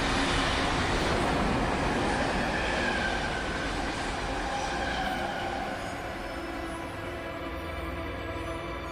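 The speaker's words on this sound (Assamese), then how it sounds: "তাইক দাঙি অনাৰ পিছতেই ৰেলখন খুব বেগত পাৰ হৈ গৈছিল।" A train rushes past at high speed, a loud sustained roar with rumbling wheels and rattling cars that fades slightly toward the end, no voices.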